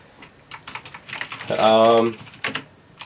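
Quick bursts of keystrokes clatter on a mechanical computer keyboard, close and crisp, with an irregular rhythm of taps and a brief denser run in the middle.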